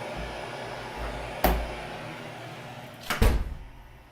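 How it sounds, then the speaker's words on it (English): A door swings and closes with a solid thud, followed by a brief rattle as it settles, over a steady background hum. "So let's close this door."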